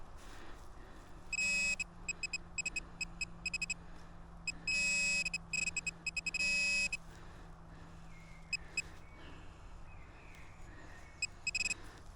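A forest metal detector sounds its signal in repeated bursts of bright, buzzy electronic tones, several clusters of quick beeps over a quiet background hiss, with no speech.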